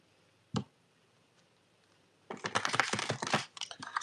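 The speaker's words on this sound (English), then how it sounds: "So I'm going to give this deck a shuffle." An oracle card deck being shuffled: a single sharp snap early on, a pause, then a dense run of rapid crisp card flicks and riffles, close and fairly quiet.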